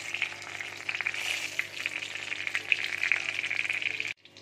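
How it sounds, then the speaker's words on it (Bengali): Bay leaves fry in hot oil in a home kitchen, making a steady, bright sizzle with crackling pops throughout, then cutting off abruptly near the end. "এবার দেখো আমি তেজপাতা দিয়ে দিচ্ছি।"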